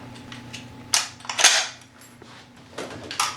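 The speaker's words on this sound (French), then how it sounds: "Je remets le chargeur, je retire la culasse, pas de cartouche dans le canon." Sharp metallic clacks ring out as a Soviet SKS rifle has its magazine reinserted and its bolt pulled back. There are two loud, close snaps close together, then lighter clicks and a final crisp clack, with no voice.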